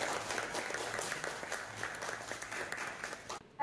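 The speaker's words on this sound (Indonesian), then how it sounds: "Ya, tepuk tangan." Classroom audience applause after a presentation, a brisk, even patter of many hands clapping at moderate distance, cutting off abruptly near the end.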